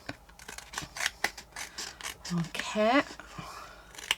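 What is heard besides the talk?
cutting around a thick paper tag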